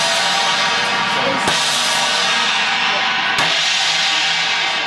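An 18-inch Sabian HHX China cymbal played in a drum setup, a loud, sustained, bright wash with two sharp fresh strikes about two seconds apart, close and unbroken.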